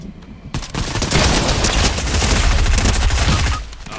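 Rapid automatic gunfire from the video game Fortnite, a dense, loud burst of shots lasting about three seconds after a brief quiet moment, then cutting off.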